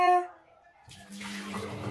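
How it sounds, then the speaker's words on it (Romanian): Hot water is poured down a drain treated with granular drain cleaner, a rushing, gurgling stream that starts after a brief tone and a short quiet gap and then runs steadily and close. "O să pun și apa caldă"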